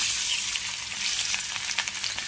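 Garlic, asafoetida and red chili powder sizzle in hot oil in a pan for a tomato chutney. The crackling hiss is steady and close, with faint stirring scrapes.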